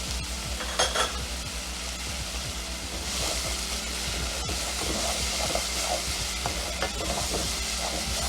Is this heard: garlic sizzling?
yes